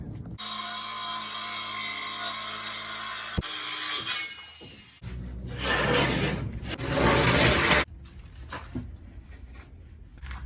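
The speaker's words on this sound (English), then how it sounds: "So I'm going to cut my ply to put on the bed." A 17mm plywood sheet for a Toyota Hiace camper van bed is cut with a power saw: a loud whining run, a pause with knocks, then another harsh cutting burst before quieter handling noises, with no talking.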